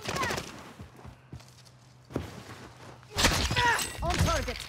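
Gunfire in the shooter game Warzone Pacific, with sharp bursts of shots clustered at the start and again in the final seconds, close and loud over game noise, while a person talks between and over them.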